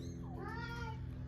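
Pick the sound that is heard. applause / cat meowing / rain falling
cat meowing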